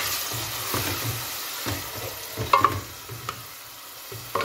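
Grated onion frying in hot oil with garlic in a home kitchen pan for a spicy fish curry, a low steady sizzle with soft stirring scrapes and a couple of brief clinks, no talking.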